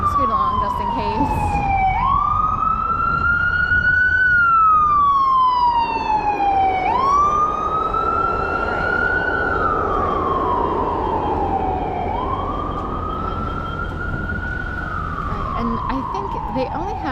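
Ambulance siren wailing on a city street in South Philadelphia, a loud, close wail sweeping up and down in repeated slow cycles over steady traffic rumble.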